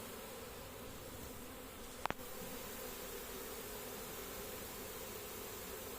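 A swarm of Buckfast honeybees crossed with darker bees hums steadily outdoors. The dense, even buzzing holds throughout, and a single sharp knock breaks in near the two-second mark.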